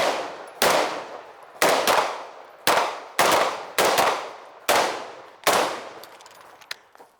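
Rifle shots ring out at reactive steel targets during a tactical drill, about nine sharp, loud reports spaced irregularly over several seconds, each with a metallic clang and a decaying ring, no talking in between.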